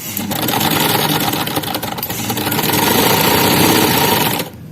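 A sewing machine runs steadily and loud for several seconds, double-stitching the hem of a kameez, then winds down at the end with no talk.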